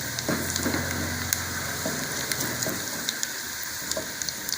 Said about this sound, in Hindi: इसको प्याज के साथ थोड़ा सा पहले भून लें तो इसका बहुत ही अच्छा फ्लेवर आता है